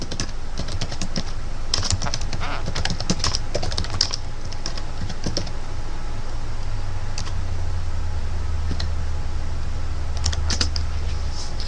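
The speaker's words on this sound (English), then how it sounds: "You want to type in Google AdWords keyword tool external" Fast, steady typing on a computer keyboard, close and clear, with dense clicking keystrokes over a low background hum and no talk.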